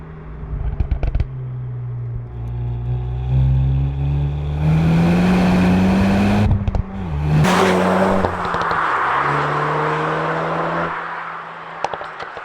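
A Renault Megane RS Trophy-R engine revs hard under heavy throttle, its note climbing and surging loud and close, easing briefly near the middle and again near the end before building back up.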